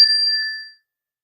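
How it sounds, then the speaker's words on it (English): A Zen energy chime struck once, ringing with a bright, clear metallic tone that sustains and fades out over under a second, followed by silence. "it's just a simple like chime. And this is a Zen energy chime that I'm using."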